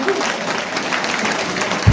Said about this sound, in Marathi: ह्या बालगोपाळांसाठी एकदा टाळ्या वाजवा.